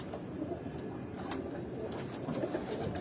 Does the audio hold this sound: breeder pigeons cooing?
yes